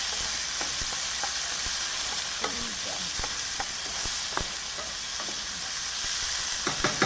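Tomatoes sizzle in a frying pan over sauteed garlic while a utensil stirs them, with a steady close frying hiss broken by sharp scrapes and clicks against the pan.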